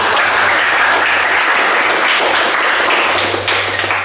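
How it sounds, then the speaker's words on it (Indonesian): A classroom of students claps together in an automotive engineering lesson, a loud, dense, continuous burst of applause close by that holds steady for several seconds. "Ya, betul sekali, tepuk tangan."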